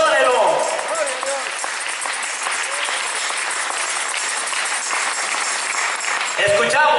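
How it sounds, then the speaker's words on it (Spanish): A church congregation claps along in worship, dense sustained applause-like clapping filling the whole stretch, with voices mixed in beneath. "Denle palmas y adórelo."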